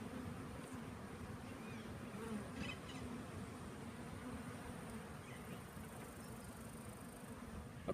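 A swarm of honeybees buzzing continuously in a faint, steady drone outdoors, with a few louder individual bees passing close and some faint birdsong in the background.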